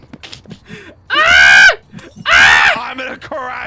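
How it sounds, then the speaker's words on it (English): A person screams twice in long, strained, high-pitched bursts close to the microphone, with breathy gasps and short vocal noises in between. "I'm gonna scream."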